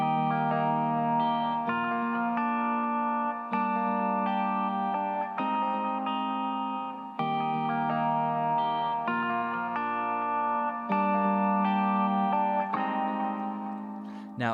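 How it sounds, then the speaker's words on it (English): Guitar chords are finger-picked in a steady, sustained flow, with shimmering chorus and echo effects giving a wide, layered tone; no talking. "I'm basically finger picking through those guitar chords"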